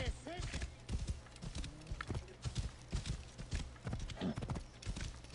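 Steady clip-clop of horse hooves trotting in the video game Assassin's Creed Origins, close and rhythmic, with a brief whinny and a voice talking over it.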